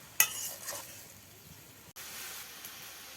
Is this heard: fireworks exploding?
no